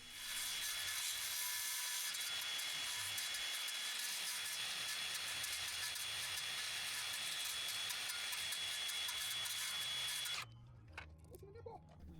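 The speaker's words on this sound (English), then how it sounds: "I'm just going to notch it out with my skill saw right here." A skill saw notches a pressure treated 2x4 for a garage foundation sill, a loud continuous whining cut running about ten seconds before stopping abruptly into quieter handling noise.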